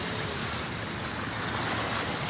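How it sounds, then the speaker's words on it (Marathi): Sea waves at Marine Drive, Mumbai, make a dense, unbroken roar of surf, loud and steady throughout, with no one speaking. "हे बघा लाट बघा कशी चालते"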